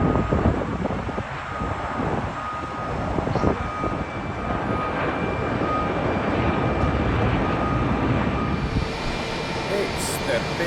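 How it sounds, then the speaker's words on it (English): A British Airways Boeing 777-300 at London Heathrow, its broad jet roar holding steady and loud throughout, with wind buffeting the microphone and a voice speaking over it. "It's the big Boeing from Boston. British Airways 777-300."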